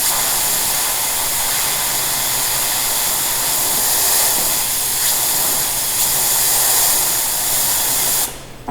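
A carburetor engine held at full throttle gives a steady, loud, hissing roar that stays even throughout and then cuts off abruptly near the end.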